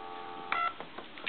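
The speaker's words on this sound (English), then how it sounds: "I'm going to dial a 2" A 1950s rotary telephone dial returns after dialing a 2, giving a brief pair of faint clicks over a steady tone from a telephone line.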